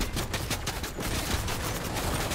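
Rapid gunfire in a multiplayer shooter game from a player perched up in a tree, with dense bursts of shots crackling continuously and loudly for the whole stretch.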